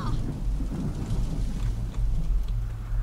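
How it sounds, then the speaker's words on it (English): Steady rain hisses beneath deep, rolling thunder rumbles in the horror video game The Kidnap, a continuous and fairly loud storm bed with no voices. "It's raining as well."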